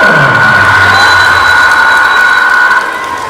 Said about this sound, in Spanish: Fuerte los aplausos, señoras y señores.